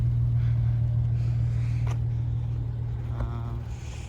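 An 8th-generation Honda Accord V6 with a MagnaFlow catback exhaust and RV6 J-pipe idles with a steady low drone, close and loud, with a brief rise in the exhaust note near the end.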